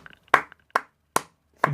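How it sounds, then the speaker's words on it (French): Four sharp hand claps from one person, spaced slowly and evenly, close and dry with silence between them. "Je t'applaudis même."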